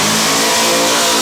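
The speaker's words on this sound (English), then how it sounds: "he's got his race-prepped Camaro" A race-prepped Camaro's engine revs hard in one loud, sustained burst with a dense, gritty roar. The sound cuts off abruptly just before the end.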